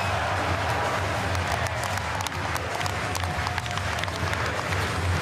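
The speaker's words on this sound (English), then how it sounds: "The crowd will erupt if this goes in" Basketball arena crowd at a FIBA EuroBasket group game between Finland and Great Britain, a dense, loud wall of cheering and clapping that holds steady throughout with no break.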